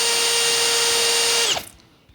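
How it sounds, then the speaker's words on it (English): High-pitched whine of a power drill running steadily, then winding down and stopping abruptly near the end, leaving quiet. "I'm gonna drill the hole on the top."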